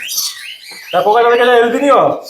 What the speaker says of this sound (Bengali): এটা albino cockatiel red eye master pair